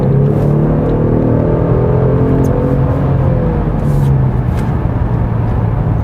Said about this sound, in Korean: 이제 드라이버 모드에 따라서 엔진 사운드도 좀 달라지는데, 지금은 컴포트고요.